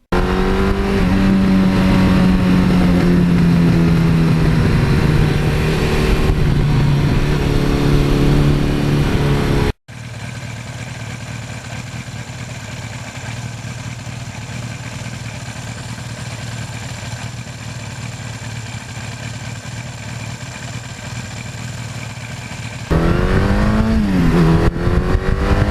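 Air-cooled 1982 Suzuki GS1100E motorcycle engine running close and loud, with revs rising and falling at the start, a long steadier stretch in the middle, then another sharp rev near the end, no talk.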